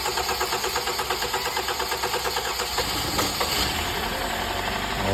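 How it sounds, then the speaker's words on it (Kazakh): A 2018 Hyundai Sonata 2.4 engine idling just after its first start following a major overhaul, with a rapid, even ticking pulse and mechanical clatter that stay loud and steady up close. "Моторын орнатып, енді алғашқы запуск жасайын деп жатырмыз"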